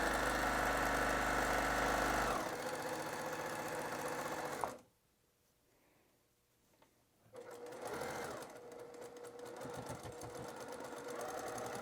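A sewing machine stitches a fabric seam with a steady, buzzing mechanical whir that runs loud, stops for a few seconds of near silence, then starts stitching again.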